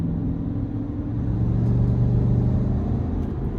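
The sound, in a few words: 2026 GMC Sierra 1500 AT4X 6.2 V8 engine driving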